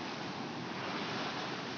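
Steady roaring surf of ocean waves at Karapyak Beach, Pangandaran, West Java, broadband and continuous, close by with a constant wash of water and no voices.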